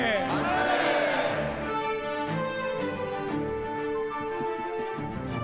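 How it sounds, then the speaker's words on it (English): A large crowd at a March 1st Movement anniversary ceremony in Korea shouts Manse together, loud, sustained massed voices rising and swelling across several seconds. "I would like to ask everyone to raise the Taegeukgi and shout Manse 3 times"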